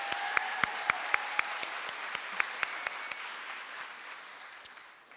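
Audience applause at an elementary school fifth-grade moving-up ceremony, a fairly distant, steady patter of many hands with a few sharp individual claps, gradually thinning and fading out toward the end.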